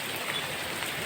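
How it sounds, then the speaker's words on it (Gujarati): Steady rain falls after many dry days, a constant even hiss of drops on surfaces and pooling water, fairly soft and unbroken, with no one speaking. "ઘણા દિવસ બાદ પછી આવ્યો છે વરસાદ, તો પછી એન્જોય કરી જ લેવાની ને આપણે વરસાદની"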